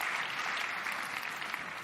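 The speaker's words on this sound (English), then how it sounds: "So give them all a big round of applause while I come over." Audience members at a conference session on cancer care give a panel a short burst of steady applause, dense clapping from many hands filling the room without a break.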